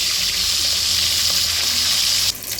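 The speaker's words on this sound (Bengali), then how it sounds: "মাছটা এভাবে লাল লাল করে ভেজে দেবো" Tilapia pieces frying in hot oil until reddish, a continuous loud crackling hiss with no talk, changing briefly near the end.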